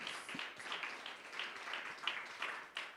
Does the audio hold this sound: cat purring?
no